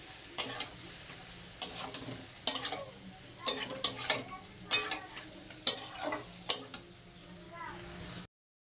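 Pieces of taro fry in oil-separated spice paste while a spatula stirs them, producing about ten sharp scraping strokes in an uneven rhythm over a soft, continuous sizzle, close and clear.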